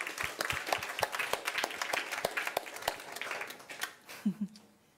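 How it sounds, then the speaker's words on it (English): Audience applause at the close of a program, a lively burst of many hands clapping that fades out over a few seconds, with a brief voice heard just as it dies down. "Yes, one round of applause."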